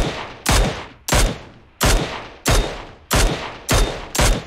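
Gunfire aimed at a vehicle in PUBG Mobile: seven loud, sharp bursts at an even rhythm, each decaying quickly into a short tail before the next.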